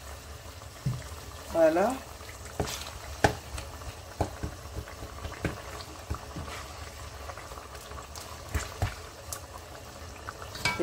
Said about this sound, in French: je rajoute un peu d'eau dans ma sauce. Comme ça, c'est de l'eau chaude.